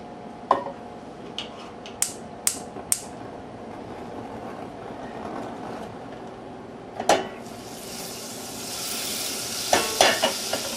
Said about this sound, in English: in a saucepan, since I'm doing a half a recipe, I heat up 1 tablespoon of butter